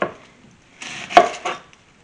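A knife chops an onion into big chunks, with a couple of quick cuts on a board: a faint tap, then a sharper knock and a follow-up chop, close by and with no talking.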